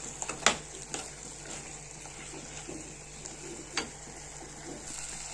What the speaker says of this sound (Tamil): இப்போ இது கொஞ்சம் கிளறி விட்டு வதங்கட்டும்